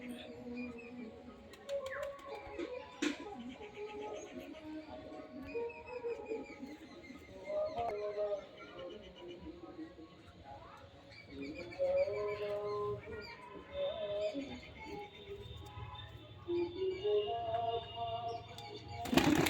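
Rain-soaked pigeons in a fancier's loft coo softly and repeatedly, with scattered chirps and rustling around them, fairly close and fairly constant, with no talk over them.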